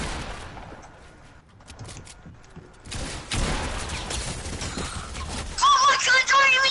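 Gunfire in a multiplayer video game shooter, a rapid fusillade of sharp cracks and bursts that builds from sparse shots into dense exchanges, with an excited voice shouting near the end.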